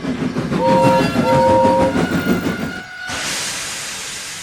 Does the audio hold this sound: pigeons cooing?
no